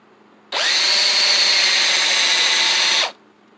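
A power drill boring into a wooden stump while building a rustic stump chair, one close, loud, steady whine lasting about two and a half seconds that starts and stops abruptly, with no talk.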